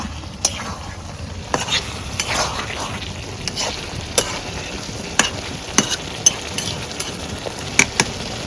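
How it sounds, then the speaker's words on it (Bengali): Chicken being sautéed and stirred in a pan, a steady sizzle broken by frequent sharp clicks and scrapes of a utensil against the pan. "ভালো করে আমি প্রথমে মাংস কষাই"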